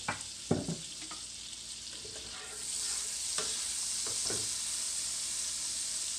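Butter and avocado oil heating in a pot over medium heat, a few soft clinks giving way to a steady, rising sizzle that fills the background, close and unbroken.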